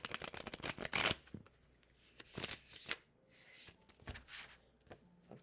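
Tarot oracle cards are shuffled by hand at close range, giving a run of crisp riffling flutters and soft slaps in uneven bursts, with quiet gaps between them.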